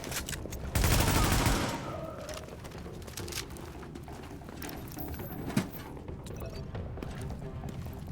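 Gunfire in The Division, a dense burst of rapid shots for about a second, then quieter mechanical clicks and scattered faint pops under a low steady game background.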